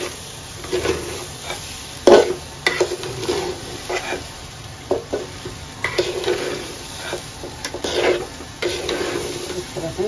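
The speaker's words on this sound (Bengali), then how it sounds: "চাউলটা একদম সুন্দর করে ভেজে নিতে হবে" Rice fried in a pot for pulao, with a spoon stirring it: repeated scraping strokes over a steady sizzle, close and fairly loud throughout.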